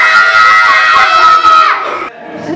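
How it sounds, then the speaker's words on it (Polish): A crowd of people on a school trip roars as loudly as they can, a loud sustained group shout lasting over a second and a half, then fading. "Pani ryczysz najgroźniej, jak potrafisz."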